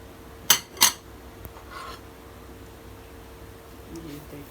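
Spoon clinking against a bowl while mixing yogurt with boiled chickpeas for dahi phulki: two sharp, bright clinks close together, then faint scraping and quiet rustling.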